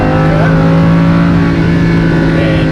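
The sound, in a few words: race car engine accelerating on track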